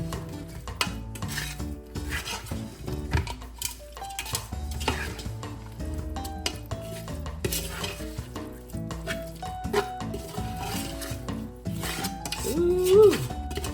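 Chili meat and beans being stirred in a pot, with spoon scraping and clanking against the pot over a continuous sizzle of frying, steady and close throughout.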